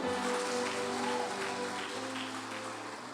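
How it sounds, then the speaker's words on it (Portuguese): A church congregation clapping during a sermon, a steady wash of applause at moderate distance, continuous for a few seconds and slowly fading. "Dê as palmas para Ele fortemente."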